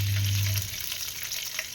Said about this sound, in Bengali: তেল গরম হয়ে গেছে, এবার কালো জিরে ফোড়ন দিয়ে দিলাম।